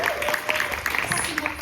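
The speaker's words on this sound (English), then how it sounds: "Can we get a round of applause for Molly" Short burst of audience applause at a live evening talk event, scattered claps rising over a murmur of voices in the room, fairly quiet and brief.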